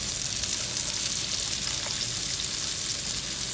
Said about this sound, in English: I'm going to give it one stir.